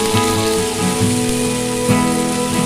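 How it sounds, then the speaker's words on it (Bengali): Tomatoes with salt frying in oil after fried onions, a dense close sizzle crackling steadily, with a few louder pops and clinks of utensils, no talking. "পেঁয়াজ ভাজা হয়ে গেছে, এবার দিয়ে দেবো টমেটো। টমেটো ভালো করে ভেজে নেব।"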